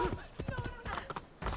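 Horse hooves clip-clop at a steady trot in the video game Assassin's Creed 2, mixed with game sounds and brief talk.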